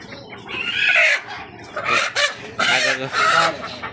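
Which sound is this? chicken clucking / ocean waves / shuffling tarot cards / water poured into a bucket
chicken clucking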